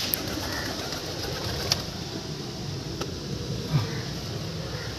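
Pigeons in a pigeon loft, with soft low cooing near the end, a few faint clicks and taps, and a steady background hiss.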